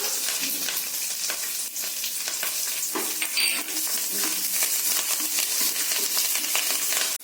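Chopped garlic frying in a pan for mint rice, a dense, steady sizzle close up with light scraping and clicking as it is stirred, and no voices.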